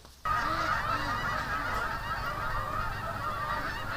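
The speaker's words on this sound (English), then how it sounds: "These geese are flying over top here and they're just freaking out the ducks." A flock of geese honks loudly and continuously, many overlapping calls filling the air and carrying from above.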